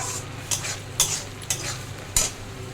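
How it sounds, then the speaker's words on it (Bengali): Spice masala for rohu fish curry sautéing in oil, a soft continuous sizzle broken by about four distinct scraping strokes of a spatula against the pan, close up and with no voices. "কষা হয়ে গেছে মশলা থেকে তেল ছেড়েছে"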